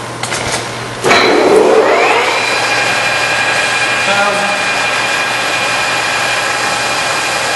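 A used Whacheon HL-460 engine lathe runs at about 395 RPM, giving a steady broadband mechanical whir and hum. A sharp surge comes at the start, then the sound settles into a continuous, fairly loud drone.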